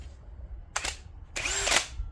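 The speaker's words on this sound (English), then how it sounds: "Just grab this here drill." A handheld power drill whirs in two short bursts, a brief spin followed by a longer run, close and loud against a quiet background during rust removal on an XA coupe.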